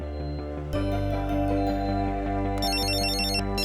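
A phone ringtone starts abruptly after a brief low hum and plays a loud repeating electronic melody, close and clear with no talking over it.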